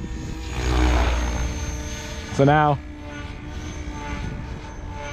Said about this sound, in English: the helicopter spins the same exact rotation in both directions